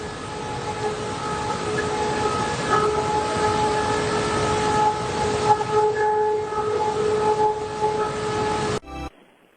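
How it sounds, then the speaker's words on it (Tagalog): A flood warning siren at Santo Niño Bridge sounds a steady, sustained tone across a wide outdoor space, holding its pitch with slight wavering and background noise, then cuts off abruptly near the end. "Pakinggan natin ang sirena dito sa Santo Niño Bridge."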